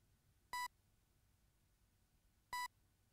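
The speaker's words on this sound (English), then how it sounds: "Beeping?" Two short electronic beeps from the indie platformer video game DOLLY, about two seconds apart, bright and tonal, over a faint quiet background.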